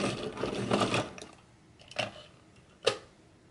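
Crayola Colors of the World colored pencils grinding in a pencil sharpener, a rough scraping burst for about a second, followed by two short sharp clicks or taps, close and moderately loud.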